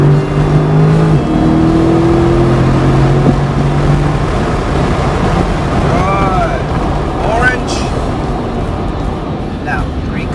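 A race car accelerating around a track during an Xtreme Xperience driving session, its engine droning loud and steady under heavy wind buffeting, with rising tonal whines as it picks up speed and an instructor talking over it.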